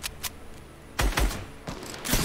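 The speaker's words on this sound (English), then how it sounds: "I just got sniped by another team." Sharp, loud gun reports from a shooter video game, a few distinct shots with one heavy blast near the middle, set against a busy background of smaller clicks and taps.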